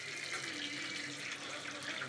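A tap runs in a home in Mumbai, giving a steady, even hiss of flowing water that stays at a constant low level throughout.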